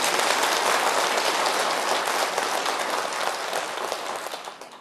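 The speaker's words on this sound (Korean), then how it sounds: "이렇게 끝나서 박수는 받아봤어도 중간 박수는 처음 받아보네요" A live audience breaks into sustained, dense applause in the middle of a Buddhist dharma talk by a monk, the clapping loud and steady throughout and tapering slightly toward the end, with no voices over it.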